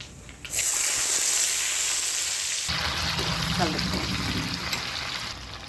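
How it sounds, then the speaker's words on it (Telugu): Onions drop into hot oil already crackling with mustard seeds, cumin seeds and chana dal for a vankaya fry, bringing a sudden loud, close sizzle that settles into a steady hiss with faint stirring. "మూత గింజలు వేగిన తర్వాత దీంట్లో ఉల్లిపాయలు వేసేసుకోండి"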